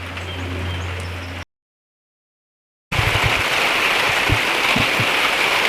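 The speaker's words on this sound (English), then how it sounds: "It is raining." Pacific Northwest rain comes down as a steady hiss of drops with scattered louder patters, broken by a short stretch of silence partway through, and no one speaks.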